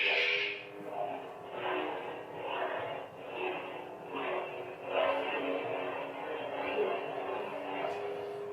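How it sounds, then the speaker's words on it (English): Custom lightsaber set to an Obi-Wan Kenobi "high ground" sound font, giving a steady electric hum with swelling, buzzy surges as the blade is moved, close and continuous with no talk. "Very much like Obi-Wan Kenobi's lightsaber."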